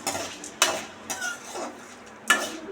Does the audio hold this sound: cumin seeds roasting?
yes